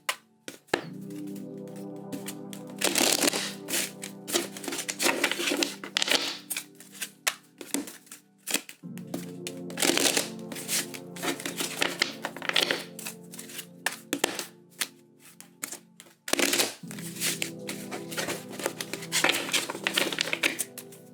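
Tarot cards riffle and snap in several quick shuffling bursts, crisp and close, over a soft, steady musical backing.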